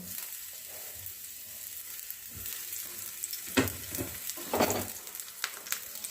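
Eggplant, garlic cloves and tomato frying in a pan over a low gas flame, giving a soft continuous sizzle with sharper crackles and bursts of spitting near the middle and end.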